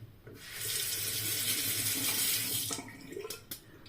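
Tap water runs into a sink during a drain test, a steady close rushing flow lasting a few seconds before cutting off, followed by a few brief splashes and drips.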